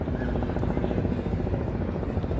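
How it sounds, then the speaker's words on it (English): Helicopters thump overhead with steady, rapid rotor beats, loud and close throughout, with no pause in the pulsing. "All these helicopters."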